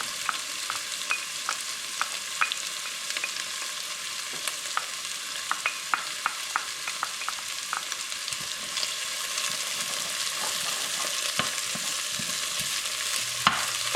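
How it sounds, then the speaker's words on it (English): Three or four garlic cloves frying in a pan for a Korean kimchi jjigae, giving a steady soft sizzle with scattered small crackles and pops and occasional stirring clicks throughout, no talk. "I have 3 or 4 cloves of garlic, and I'm going to put them in."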